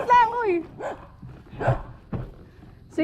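A dog on an island road in the Philippines gives short barks and high whimpering yelps, close and fairly loud, mixed among scattered bursts of nearby voices.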